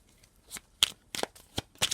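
Tarot cards being shuffled for a reading, with soft riffling bursts and sharp snaps that come in short separate bursts at close range. Nobody speaks.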